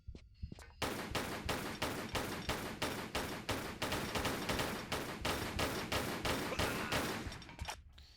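Rapid pistol fire at a guard in Tomb Raider 3: a long steady string of around twenty loud, evenly spaced shots in quick rhythm, close and dominant, stopping abruptly after about seven seconds.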